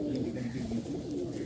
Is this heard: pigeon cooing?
yes